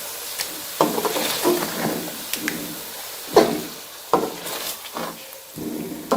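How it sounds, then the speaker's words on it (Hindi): Whisked yogurt is stirred into chicken biryani in a hot cooking pot, producing a soft sizzle and wet scraping strokes that come in several separate, close pushes of the spoon, with no speech. "अब इसको हम मिक्स कर लेते हैं।"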